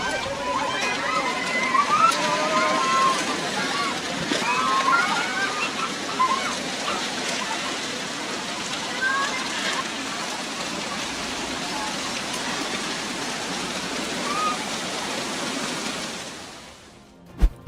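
Floodwaters rush through a residential area, a dense, steady roar of churning water that holds at a high level throughout, with a voice speaking over it.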